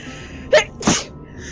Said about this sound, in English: Telissa actually just sneezed